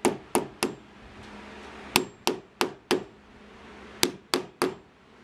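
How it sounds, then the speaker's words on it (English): A small hammer knocks down and flattens staples in the ceiling of a 1966 Super Shasta camper: about ten sharp, close metallic taps in quick bursts of three or four, with short pauses between, and no talking. "knock these down, flatten them out with a little baby hammer."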